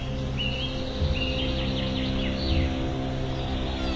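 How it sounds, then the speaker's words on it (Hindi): Small forest birds chirp and whistle in short repeated calls over a steady low hum, their high notes carrying loudly through the dense woodland near a river in Karnataka. "जो चिड़ियाएँ बैठी हुई हैं, जो चारों तरफ बर्ड्स हैं, वो बहुत ज़्यादा एक्साइटेड है। आप सुनिए कितना चीख रही हैं।"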